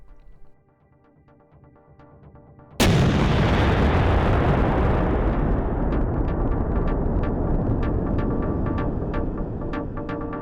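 A 130 mm M46 field gun fires one sudden, very loud blast, and a long rumbling echo rolls on and slowly fades.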